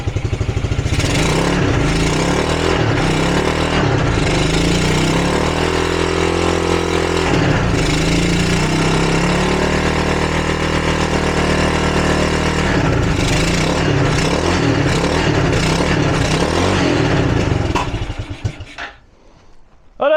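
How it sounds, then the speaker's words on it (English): A Suzuki LT300E ATV engine runs with a rough, uneven idle and repeatedly revs up with a rattly, buzzing drone, loud and close, before cutting off near the end. "it doesn't have much of an idle at the moment, but it revs up"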